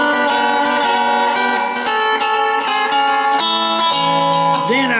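Sustained harmonic chords, likely from a keyboard, change every second or so in a steady progression through a 2 chord toward the 5 chord, with a sliding pitch bend at the end; loud and alone, no talk.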